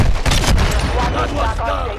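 Rapid gunfire rattles through a Call of Duty: Modern Warfare II multiplayer firefight, with loud close bursts and dense overlapping shots filling two seconds.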